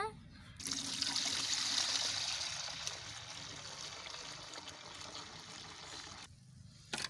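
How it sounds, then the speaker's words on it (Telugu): Soaked urad dal (black gram) being washed in water: a close, splashing, trickling wash that starts after a short pause and stops shortly before the end, fairly quiet overall. "ఇప్పుడు వీటిని మనం ఇట్లా మొత్తం కడిగేసుకోవాలి నీట్గా"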